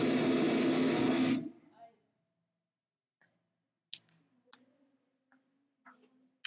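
Faint, sharp computer mouse clicks while working in PowerPoint, a few isolated taps scattered after a moment of talking that cuts off at the start.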